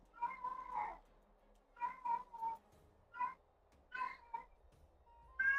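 Cat meowing in the Honkai Star Rail game, a string of several high, tonal mews spread through the clip at a moderate level, with short pauses between calls and no talk.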